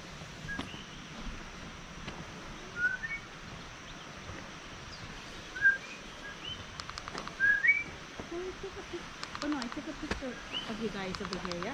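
Birds call in a Hawaii tropical garden on the Big Island. Short, faint whistled chirps come and go over a steady outdoor hiss with rustling.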